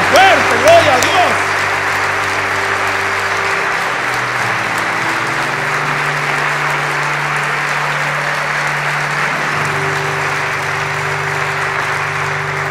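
Sustained congregational applause fills a Christian church service, dense and even for nearly thirteen seconds, loudest at the start, with steady low tones beneath the clapping.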